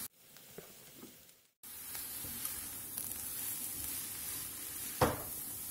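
Button and shiitake mushrooms fry in a pan. A steady, fairly quiet sizzle starts after a brief silence, with a few light stirring clicks and one louder scrape near the end.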